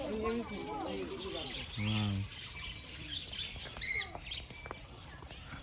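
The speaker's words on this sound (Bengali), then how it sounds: "এই দেখো, এটা কাকাতুয়া আছে" Harsh cockatoo squawks and calls ring out amid a busy, echoing zoo crowd, with people talking nearby.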